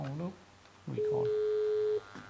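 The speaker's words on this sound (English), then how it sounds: "Phone is ringing." An Alcatel-Lucent 4029 digital desk phone rings on an enterprise system, a single steady electronic tone held for about a second, with brief talk before and after it.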